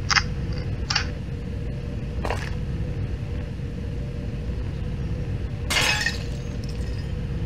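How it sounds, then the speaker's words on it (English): Glass shattering in the horror video game The Rising, several short sharp breaking bursts scattered over a steady low ambient rumble, with no one talking. "I hear glass breaking."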